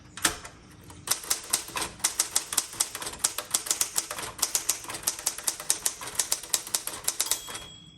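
A repainted 1967 red Classic 12 manual typewriter clacks away in close, crisp bursts of sharp keystrokes, rapid and slightly uneven in rhythm, with no one speaking.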